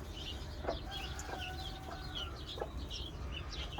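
A mother hen with nineteen guinea fowl chicks on a farm, soft clucks and high chick peeps scattered over a steady low background hum, with no talk.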